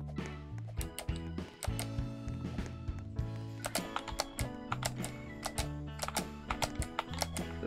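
Close, rapid computer keyboard typing while playing Roblox, keys clattering in dense irregular bursts with brief pauses, steady and loud throughout.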